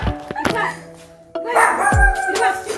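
Sharp barks from a pet dog named Bruno ring out a few times at close range, mixed in with people's voices talking nearby.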